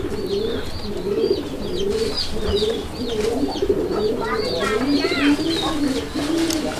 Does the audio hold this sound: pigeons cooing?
yes